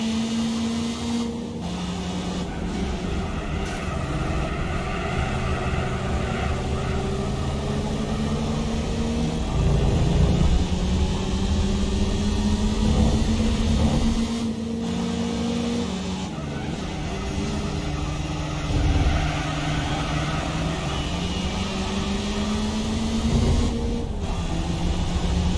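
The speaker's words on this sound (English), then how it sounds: "You can hear the carburetor, really nice audio coming from the carburetor of the car." A carbureted racing car engine in Gran Turismo 4 drones and revs continuously on the Tsukuba circuit, pitch rising and falling through gear changes, with a brief tire squeal midway.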